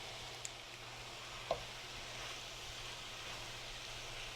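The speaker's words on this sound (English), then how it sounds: "So I'm going to go ahead and add in the teriyaki sauce packet and get it all stirred in." Chicken and vegetables sizzle steadily in a pan as teriyaki sauce is stirred through, a soft, even frying hiss with one brief clink partway in and no voices.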